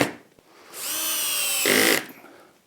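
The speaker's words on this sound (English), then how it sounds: "I'm going to put some screws in here, just 6 screws to hold it in place" A power drill drives a screw into wood while a homemade TV wall bracket is being assembled: one close, loud whirring burst of about a second that shifts pitch as the screw seats, then stops.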